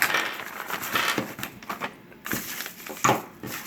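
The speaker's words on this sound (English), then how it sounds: "So I cut it open." Cutting open the packaging of an Archon tripod, crinkly plastic and cardboard rustling, tearing and scraping close up in irregular bursts, with no talking.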